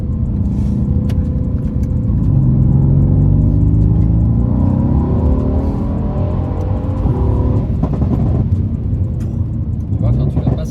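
A Mercedes C63s AMG engine pulls hard in third gear, its note rising in smooth, steady sweeps as the car accelerates, loud and close with engine rumble filling the cabin, while people talk over it.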